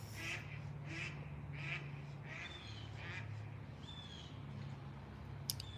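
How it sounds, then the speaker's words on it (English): Ducks fly around outdoors, giving a series of six or so fairly faint quacking calls spaced about a second apart over a low background rumble. "See the ducks flying around."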